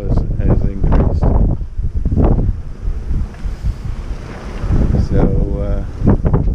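Strong, veering wind at sea aboard a Twister sailboat, heavy gusting buffets on the microphone mixed with wave wash, someone talking close over it.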